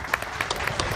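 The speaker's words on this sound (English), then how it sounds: "you deserve a great round of applause for each of you" Scattered applause at the Rathgormack v Gauliter Waterford Junior B football final, with a few distinct, fairly close hand claps standing out against a low background rumble.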